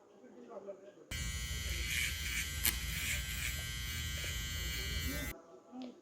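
A loud, steady electric razor buzz of a barber shaving a beard runs for several seconds, starting and stopping abruptly, with faint talk before and after.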